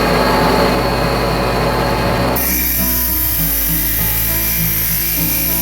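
A rock saw cuts the back off a druzy crystal cluster: a loud, steady whining grind that fills the whole stretch, its pitch and texture shifting partway through.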